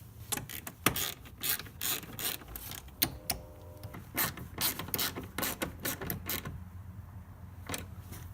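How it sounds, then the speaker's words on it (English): An 8mm ratchet tightens the L bracket bolt on a K&N cold air intake for a Chrysler 300, a close, quiet series of rapid clicking strokes in irregular bursts. "grab your 8mm and tighten down the top of the L bracket"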